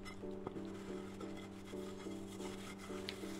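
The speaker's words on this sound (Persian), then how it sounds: "پشتش رو هم سنباده بزنید" Sandpaper rubs back and forth across the back of a pottery piece in steady, quiet, repeated strokes, close up with no talking.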